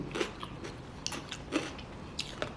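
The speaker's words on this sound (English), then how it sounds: "I feel like I actually prefer eating the cabbage with the sauce, because it is so good and so crunchy." Crunchy raw cabbage coated in sauce is chewed close to the mic, with a steady series of crisp, wet crunching bites and no talking.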